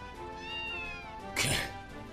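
Elizabeth the cat gives a single drawn-out meow, close and fairly quiet, followed by a brief louder breathy burst near the end.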